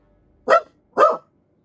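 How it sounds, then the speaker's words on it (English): Two sharp, loud barks from a nearby dog, spaced about half a second apart, ringing out against an otherwise quiet room. "Sorry if you can hear my dog."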